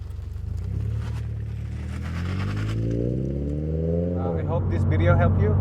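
A Toyota GR86 fitted with an Akrapovic exhaust revs up, engine pitch climbing steadily then dropping back, close and loud, with a brief voice at the end.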